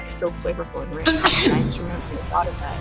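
A single sharp sneeze bursts out in the middle of a person's steady conversational talk, loud and close, with speech continuing before and after it.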